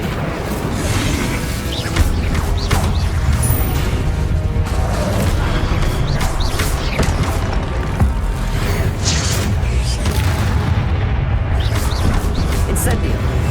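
Fire and blast spells, Confringo and Incendio, are cast in a boss battle against an ancient titan in Hogwarts Legacy, giving continuous loud booms, crackling bursts and impacts with a voice talking throughout.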